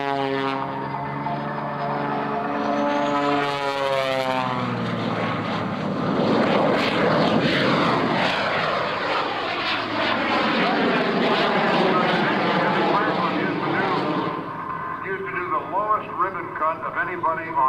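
A World War II era trainer airplane fitted with a jet engine roars past at an air show, a loud sustained whine with sweeping pitch changes, fading near the end, under continuous announcer commentary.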